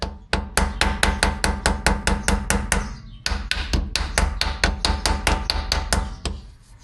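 Sharp hammer strikes on a Volvo 240 car part ring out fast and evenly, close and loud, with a short break midway before another quick burst of blows.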